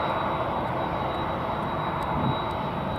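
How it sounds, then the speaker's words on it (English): An Embraer 175 jet at DFW Airport gives a continuous, broad engine roar with a steady high whine, loud and unbroken for the whole stretch, with no voices over it. "this Embraer 175 is headed to Phoenix"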